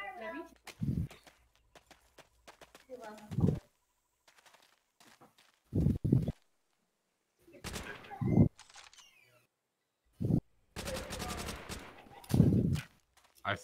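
Gunfire in World at War, a satchel charges versus snipers match, cracks out in sharp bursts and isolated shots scattered across the stretch, with loud voices talking and shouting between them.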